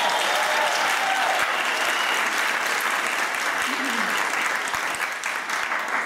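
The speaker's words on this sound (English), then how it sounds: "You can applaud if you like." A theater audience at the Pigott Theater, Stanford, applauds for an improv musical show, sustained dense clapping from a full house, fairly loud and even, with a brief dip near the end.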